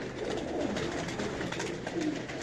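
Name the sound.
pigeons cooing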